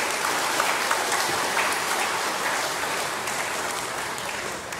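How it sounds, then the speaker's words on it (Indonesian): A worship service congregation applauds for Jesus in a dense, steady roar of clapping that holds at an even level from start to finish, with no voices over it. "Sekali lagi tepuk tangan untuk Tuhan Yesus"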